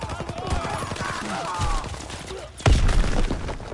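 A submachine gun in Call of Duty WWII rattles off a rapid burst of close shots, followed by heavy thuds and a louder impact-heavy volley.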